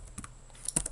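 Brief burst of a few keystrokes on a computer keyboard while writing JavaScript code, light quick clicks close to the microphone with no talking.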